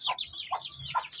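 Month-old Shamo Aseel chicks in a small backyard give a few quick, soft, high-pitched peeping clucks, close by and faint, with no talking.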